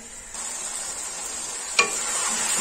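Potatoes frying in a pan for aloo mooli sabzi, a steady soft sizzle that rises slightly in intensity with a single brief utensil clink partway through, no voices.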